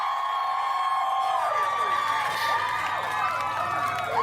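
A concert crowd cheers and roars in a steady wash of noise with whoops rising over it, heard through a reaction to an ILAW and CRIMZONE performance.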